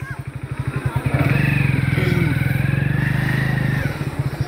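A motorcycle idles with a rapid thumping beat, then revs up louder and pulls away on a village road, the engine throbbing close by before easing back to a steady putter.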